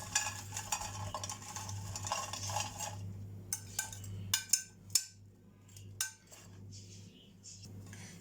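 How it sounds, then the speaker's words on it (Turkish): Pieces of potato tumble into a pan in Turkish home cooking of meatballs, potato and eggplant, giving several clattering, clinking knocks against the pan, up close over a steady low hum. "Önce patateslerimizi ekliyoruz."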